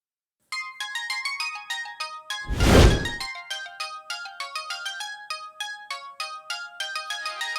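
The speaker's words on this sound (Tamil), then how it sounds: "உனக்கு போன் வந்திருக்கு பாரு" A mobile phone ringtone plays a bright repeating melody of electronic tones, loud and close, with a brief dull thump partway through, in a Tamil television serial household scene.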